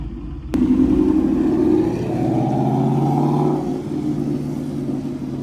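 A Ford S650 Mustang 5.0 with intakes, aftermarket mufflers and a ghost cam tune, its V8 exhaust starting abruptly and settling into a loud, close, lumpy rumbling idle with a brief rev swell before easing back, no talking.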